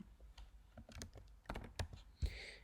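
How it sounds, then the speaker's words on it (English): Computer keyboard keys clack in quick, uneven bursts as an answer to an IELTS listening question is typed, close and clear with no speech. "So I'm going to type it right here."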